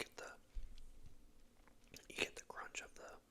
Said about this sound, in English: the crunch of the pistachio, but not the flavoring